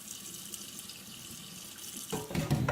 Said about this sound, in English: stopping long enough for the rice to settle to the bottom, and then slowly drain